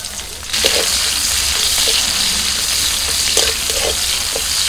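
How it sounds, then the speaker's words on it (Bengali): Chopped onion dropped into hot oil, the sizzle jumping up sharply after a quiet start and holding steady, with a few spatula scrapes and stirs in the pan. "এবার ওই তেলের মধ্যে আমি দিয়ে দিচ্ছি পেঁয়াজ কুচি"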